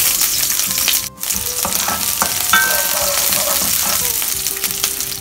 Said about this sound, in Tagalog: Ngayon naman ay magigisa na tayo.